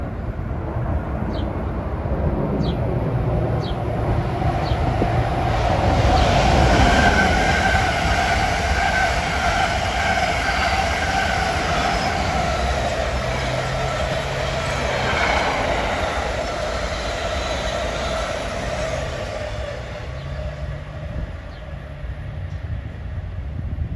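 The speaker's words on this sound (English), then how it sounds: "At 6:42 we have a drag race of trains on tracks 3 and 4." Two trains, one a double-decker, run side by side on adjacent Northeast Corridor tracks at Linden, New Jersey, making a loud, sustained rumble with wheel squeal and rhythmic clatter.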